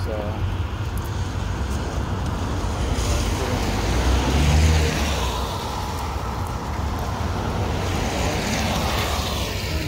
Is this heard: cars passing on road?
yes